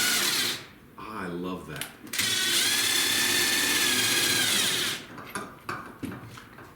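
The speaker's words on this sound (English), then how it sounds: "So you have the drill, you have the socket." A power drill with a socket drives an A-frame trailer jack, whirring loudly and steadily for about three seconds between short talk from a man, who speaks before and after the run.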